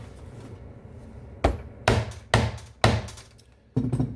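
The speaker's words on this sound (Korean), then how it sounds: "조금 시끄러워도 제가 한번 그냥 뚫어 볼게요" A hammer strikes a punch through thick, double-layered leather in five sharp, heavy blows spaced roughly half a second apart, close and loud above a quiet room.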